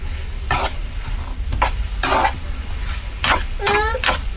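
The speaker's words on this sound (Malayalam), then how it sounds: "നമുക്ക് ഈ തവി എടുക്കാം ഇത് ഓൾറെഡി ബീട്രൂട്ട് മെഴുക്കുരട്ടിയുടെ തവി കേട്ടോ സെറ്റ് ആയത് ഇളക്കാം" Ladle stirring a beetroot stir-fry in a pan, several short scraping strokes over a steady sizzle, close and moderately loud, with a brief throaty sound mixed in.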